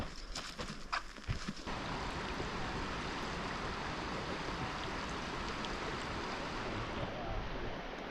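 Shallow White's Creek in the Oregon Cascades, on the Three Sisters loop in early fall, rushes steadily and loudly up close, a continuous broadband wash with a few brief knocks at the start.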